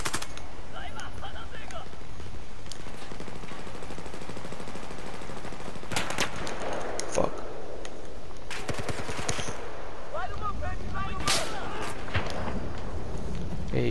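Battlefield 4 video game combat: bursts of machine-gun fire and single sniper shots crack over a steady noisy battlefield background. The firing is loud and irregular, with dense volleys and scattered shots.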